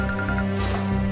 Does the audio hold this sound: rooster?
no